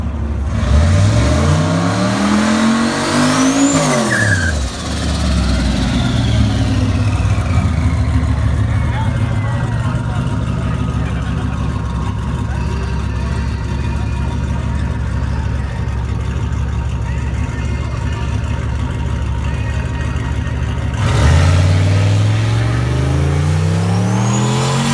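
A turbocharged car with a GT45 turbo and a 480E transmission, running 14 pounds of boost, makes a drag strip pass. The engine revs loud and close, rising through repeated gear pulls, then roars again near the end.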